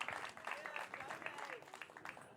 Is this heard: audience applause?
yes